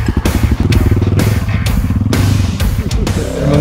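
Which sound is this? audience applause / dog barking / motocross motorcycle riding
motocross motorcycle riding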